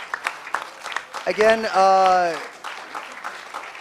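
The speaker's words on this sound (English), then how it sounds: "let's give one big round of applause to them." An audience at a hacker-space conference talk claps briefly, with a voice speaking over and around the applause.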